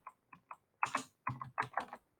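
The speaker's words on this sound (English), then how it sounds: "I'm going to type mountain laurel" Quick keystrokes on a computer keyboard, a few single taps followed by short bursts of clustered clicks, close and fairly quiet with no speech.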